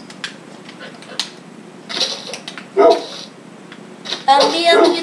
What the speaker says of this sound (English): Your dog's in there, Gumball, your dog's in there.